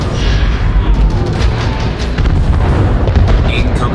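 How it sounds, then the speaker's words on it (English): Artillery bombardment pounds a position in the video game Crossfire Legion, a loud, dense and continuous rumble of booming explosions with a voice partly under the blasts. "Incoming bombardment to our position."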